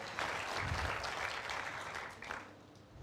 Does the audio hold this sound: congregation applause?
yes